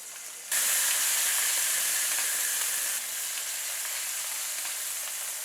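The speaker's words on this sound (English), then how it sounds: "all of them were replaced with bacon sizzling" Bacon sizzling in a pan, a steady dense crackling hiss that starts abruptly, stays loud and even, then eases slightly partway through, with no voices.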